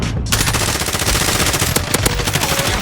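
Rapid automatic gunfire in a combat video game, loud and close, a continuous rattling burst of shots with a few sharper cracks, no voices over it.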